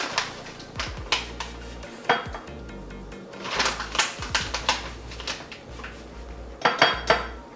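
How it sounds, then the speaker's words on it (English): Gluten-free flour and cacao powder mixed in a bowl make a run of quick tapping and scraping knocks, close and steady with a few louder clusters. "give these a good mix just so they're well blended"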